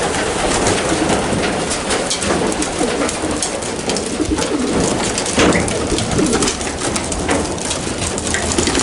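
Many racing pigeons coo close by in a continuous soft murmur, with rustling and scratching noises mixed in throughout.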